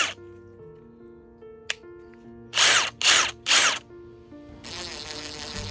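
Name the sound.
power drill drilling into pine cone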